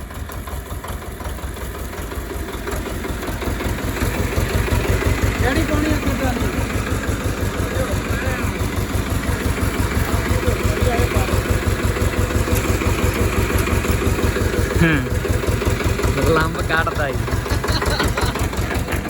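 A 2024 model Swaraj 855 tractor with two trolleys hitched behind idles nearby, its engine chugging in a loud, steady, rapid rhythm throughout, and a voice speaks over it at times.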